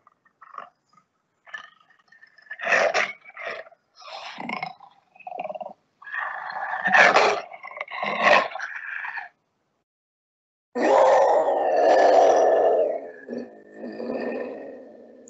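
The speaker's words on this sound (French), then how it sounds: "je vous fais réentendre quelques petits bruits de léopard" A leopard gives a series of rough, rasping grunts and growls, short bursts followed by a longer, deeper roar-like call, close and fairly loud.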